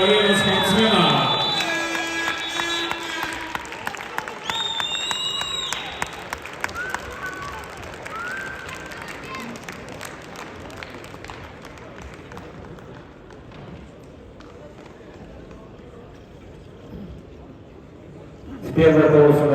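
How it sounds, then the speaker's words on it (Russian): An arena crowd applauds and cheers the athletes at a 70 kg semifinal bout. An announcer talks over the start, and the dense clapping and crowd noise gradually thin out before a loud burst at the end. "Ваши аплодисменты, дорогие друзья"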